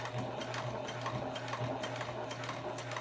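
A Janome HD9 sewing machine stitches steadily and close by, a continuous mechanical whir with a rapid, even needle rhythm running the whole time, with no voices.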